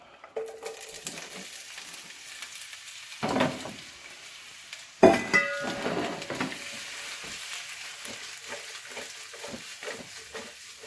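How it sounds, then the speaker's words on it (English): Chopped white and red onions hit hot oil in a pan, sizzling and frying with scraping, stirring sounds and a sharp burst as they land, then a steady crackle. "Oil's hot in the pan already."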